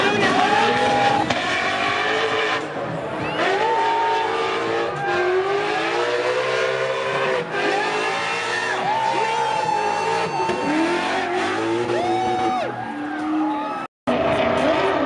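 A Ford Mustang Fox body drift car at a drift event revs hard and its tires squeal repeatedly, loud engine roar with long screeching slides, tire smoke, and a brief cutout near the end.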